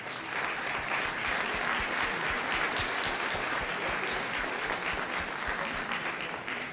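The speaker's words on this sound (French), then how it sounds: "vous pouvez les applaudir." A hall audience applauds teaching support teams at a regional presentation on the Lycées 4.0 programme, with steady, even clapping throughout and no talking over it.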